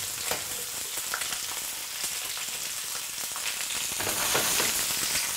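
Onions and garlic fry in sunflower or rapeseed oil, a dense, continuous crackling sizzle with scattered pops and light stirring, close and steady throughout.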